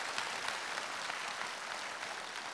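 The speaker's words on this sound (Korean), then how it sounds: "박수 한번 보내주십시오" Applause from a crowd at a regional specialty-construction association family-day event, a dense, even wash of clapping sustained throughout the short stretch with no talk.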